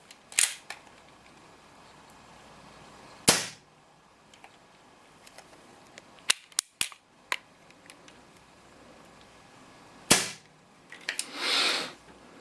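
Umarex Colt Peacemaker CO2 BB revolver being cocked and dry-fired with a little gas in it: a series of sharp metallic clicks and snaps, spread out with pauses, close and crisp, plus a short hiss near the end.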